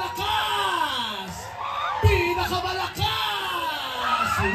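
A crowd at a live show yells and whoops loudly on request, a sustained roar of many voices with a brief dip midway and an amplified announcer's voice over it.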